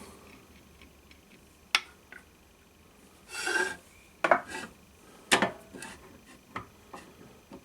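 A thread tap is turned by hand in a drill press with cutting oil on it, heard as a close run of metallic clicks, rasping scrapes and short bursts of grinding, with quiet gaps between them and no talking.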